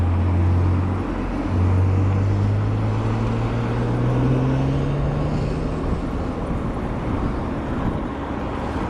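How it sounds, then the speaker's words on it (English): Cars passing on a road heard from an e-bike, a steady low engine and tyre rumble with rising drone tones under constant wind noise, continuous and fairly loud throughout. "trying to navigate cars as well"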